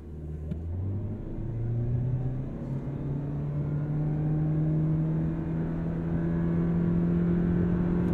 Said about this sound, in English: So we're going to do a 0 to 60 with the race box set up